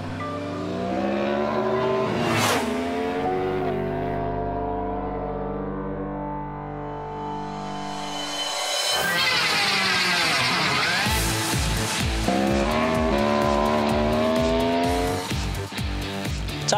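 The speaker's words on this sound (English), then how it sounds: "A robot riding an R1." Unmodified Yamaha R1 motorcycle ridden by the MOTOBOT robot, loud high engine revving and tire noise with rising and falling pitch as it accelerates and shifts, continuous and close, no talk.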